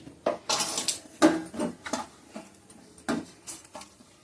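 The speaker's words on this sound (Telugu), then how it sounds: "మనం పిండి స్మూత్గా ఉండడానికి కొంచెం నూనె వేసుకుని కలుపుకుందాం" Puri dough being worked with a little oil in a bowl: a series of close, uneven slaps, knocks and scrapes against the bowl in short bursts, with no talking.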